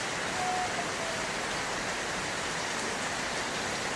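Heavy rain falls steadily during flooding, a dense, continuous hiss of drops pattering on surfaces, loud and unbroken with no voices.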